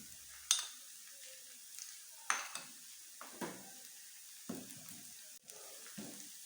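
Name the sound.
garlic and ginger paste sizzling in oil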